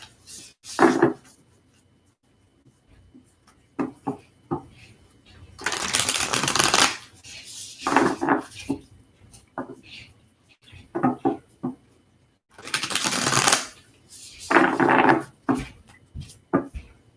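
An Illuminated Earth Oracle deck is shuffled in several brisk bursts of riffling and card slapping, separated by short quiet pauses, close and fairly loud.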